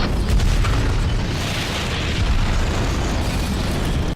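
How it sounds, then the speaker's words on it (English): A CGI explosion from season one of The Walking Dead, a loud, sustained roaring blast that fills the whole clip with dense rumble before cutting off abruptly. "Yep, it was a big stupid explosion."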